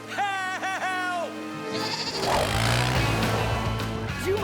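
Cartoon goat bleating in a few wavering, nasal cries near the start, followed by a rushing, splashing swell of background noise.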